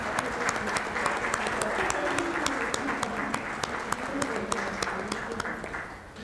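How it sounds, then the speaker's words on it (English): Sustained audience applause at the close of a conference, dense steady clapping from a large crowd that fills the room throughout before starting to thin at the end. "I think that Tomasz Kozłowski deserves applause and a word of thanks."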